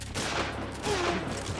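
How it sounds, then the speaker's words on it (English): Shotgun fire in Metal Gear Solid 3, a short burst of sharp blasts over rumbling game ambience, close and loud, with no voice over it. "Shotgun!"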